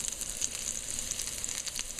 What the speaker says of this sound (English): so the oil hot, I throw in the jeera, so it's frying up a little.